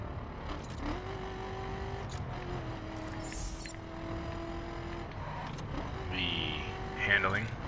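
Supercar engine in The Crew racing game, a steady droning tone that shifts pitch as the car slows, with a sharper electronic game sound near the end and a faint background bed throughout.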